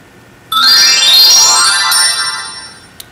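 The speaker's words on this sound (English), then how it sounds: "I even changed all the function and sounds, the ringtone." An iPhone 3G ringtone, a bright tonal melody that starts abruptly, holds steady and loud for a couple of seconds, then fades, ending with a short high blip.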